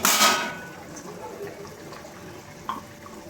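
Egg dumplings drop into a simmering curry broth with a loud splashing rush at the start, followed by a quiet bubbling simmer and one small knock near the end.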